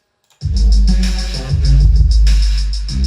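A bright synth melody, played one octave higher, in quick repeated notes over a heavy low bass in FL Studio, loud and close, with no voices.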